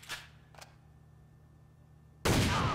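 Shots from a SPAS-15 shotgun in the online shooter AVA, with two quick sharp blasts at the start, a quiet pause, then a loud heavy discharge that rings out at the close.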